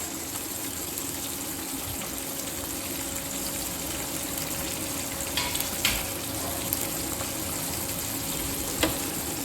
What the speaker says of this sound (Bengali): এই মাছ আমার ভাজা হয়ে গেছে, খুব বেশি ভাজার দরকার পড়ে না, টাটকা মাছ।